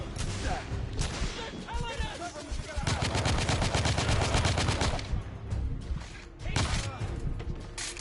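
Gunfire from The Order: 1886 video game, with bursts of rapid automatic fire and scattered single shots that peak in a sustained volley mid-clip, then give way to sharper separate cracks, loud and close.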